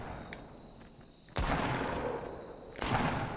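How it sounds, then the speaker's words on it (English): Two sharp gunshots crack out about a second and a half apart in Fortnite, each followed by a short echoing tail over quiet background noise. "Oh, this gunfire. I don't know where it is."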